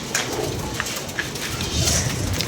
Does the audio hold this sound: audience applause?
no